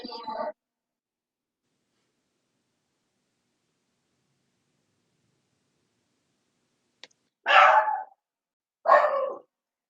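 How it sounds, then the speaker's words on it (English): A dog barks in the distance, one bark at the start and two more near the end after a long silence. "I hear a dog."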